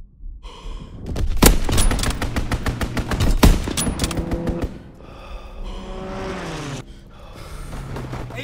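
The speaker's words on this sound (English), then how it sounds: "Strafing run inbound." Rapid bursts of heavy gunfire ring out from a strafing run in the Call of Duty WWII video game. Loud, close volleys hammer in quick succession, with sharp cracks. Engine drone and effects follow.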